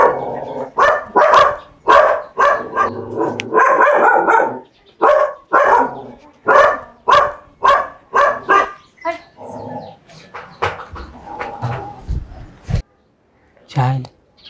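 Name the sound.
rabid dog barking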